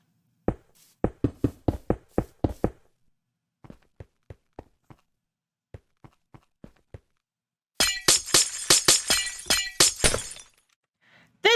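Minecraft glass blocks are placed with a series of sharp, stone-like taps, then several quieter single taps, and finally a loud burst of tinkling, shattering glass as the blocks break.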